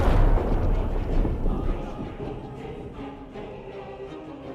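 Arcane cannons in the Baldur's Gate 3 video game give off a deep, continuous rumbling roar, loud and dense at first and easing slightly while staying steady throughout.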